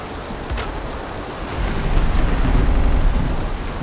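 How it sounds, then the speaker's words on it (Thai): Rain falls in a video game as a steady, dense hiss, growing louder and heavier about halfway through, with no voices. "อุ้ยแม่งเป็นฟ้าฝนแห่งความบั๊ก"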